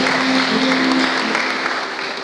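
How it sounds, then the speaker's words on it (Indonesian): A church congregation at a Pentecostal GPdI Sunday service in Pontianak breaks into steady, dense applause that fills the room evenly for a couple of seconds, with a sustained tone humming underneath. "Tepuk tangan buat Tuhan Yesus."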